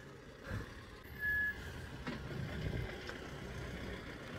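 Vehicles turn around on a closed mountain road in Ladakh while a truck's reversing beeper sounds faintly at a distance over the low rumble of idling engines.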